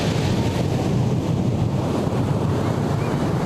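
Strong wind buffets the microphone with a constant roar on Carolina Beach, and surf rumbles underneath, steady and loud throughout.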